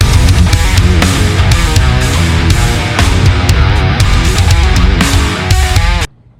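A loud, dense heavy electric guitar riff with thick distorted tone from a Neural DSP Fortin Cali amp simulator plays continuously, then stops abruptly at the end.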